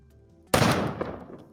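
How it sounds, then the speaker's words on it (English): An explosion effect in a Unity game bursts suddenly after a quiet hum, a loud sharp blast that decays into a rumbling tail over about a second. "we have this explosion that is triggering when we touch something"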